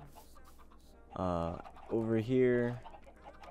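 Chickens cluck in a Minecraft-style crafting game, two short bursts of clucking standing out clearly over a quiet background while a voice speaks briefly.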